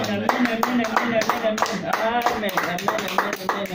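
A church congregation claps and cheers in praise of the Lord, a steady, dense run of hand claps mixed with voices calling out throughout.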